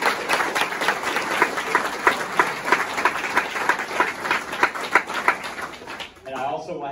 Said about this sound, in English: I want to make sure we give all our athletes a round of applause real quick